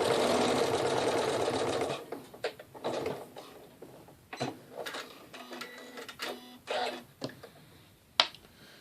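A Janome Skyline S7 sewing machine stitches luster vinyl with a canvas-like backing, giving a close, rapid mechanical whir for about two seconds, then a series of quieter clicks and short bursts as the fabric is adjusted.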